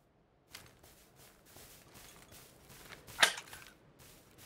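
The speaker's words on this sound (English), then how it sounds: "There's shots up the hill, but I can't see him." Gunshots in the video game Call of Duty, a scattered run of distant cracks with one sharp, loud shot near the end, heard over quiet background.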